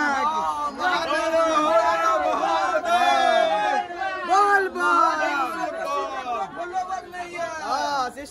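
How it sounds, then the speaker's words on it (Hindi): A large crowd of devotees at a famous Mahadev temple in Bihar, a dense, continuous babble of many voices with chanting and cheering swells, loud and close throughout. "भीड़ देखे छे ने कते भीड़ छे"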